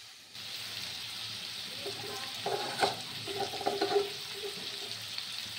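Onion and garlic frying in a pan for khichuri: a soft continuous sizzle with scraping stir sounds building midway, close and fairly quiet.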